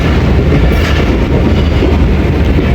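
A train rolls onto the loop line at a station on the Gujrat to Attock route, a loud, close, continuous rumble of wheels and carriages with a rhythmic clatter and no voices.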